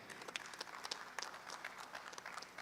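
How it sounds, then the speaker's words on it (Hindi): Audience at a mushaira poetry gathering in Mumbra claps to welcome a poet, faint scattered clapping with a few sharper claps standing out, heard from some distance. "पुरजोर तालियों से इस्तकबाल करें"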